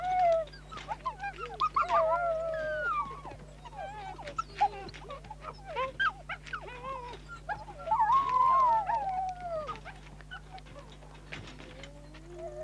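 Wolves greet a pup at a fence with excited whimpers, yips and whining howls in overlapping bursts, fairly close over a low steady hum.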